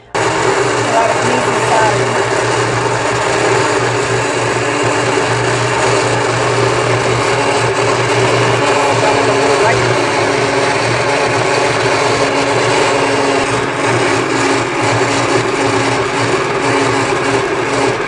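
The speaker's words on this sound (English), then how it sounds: "if you're using a blender or a little bullet or something like that" An electric blender runs continuously at full power while grinding sofrito ingredients, giving a loud, steady, even whir that lasts the whole stretch without pausing.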